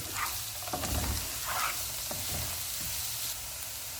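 Shredded cabbage and carrots frying in a pan for fried rice: a continuous close sizzle with soft crackles and a few light stirring scrapes, with no talking.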